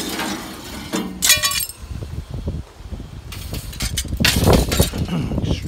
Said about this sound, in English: a pointy, jagged edge of broken glass